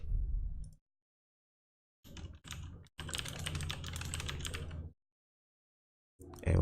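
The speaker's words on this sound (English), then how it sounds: "So let's type in amazing lead page." Typing on a computer keyboard comes in quick clattering runs of keystrokes: a short pair of bursts, then a steady two-second stretch, separated by silence and ending with a brief final tap.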